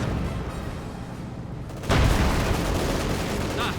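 Panzer IV tank machine guns firing in the Company of Heroes 2 strategy game, a sudden loud burst of dense rapid gunfire that cuts in midway and keeps rattling on amid battle noise.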